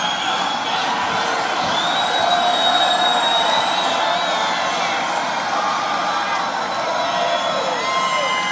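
A large crowd at a Donald Trump campaign rally in Tampa, Florida, in 2016 cheers and shouts in a sustained loud roar with whistles and scattered voices throughout.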